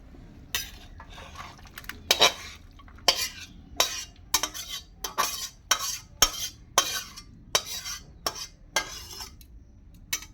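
Cooked fig curry being scraped and poured out of a pan, with a steady series of sharp utensil scrapes and clacks against the metal, fairly close and with no talking.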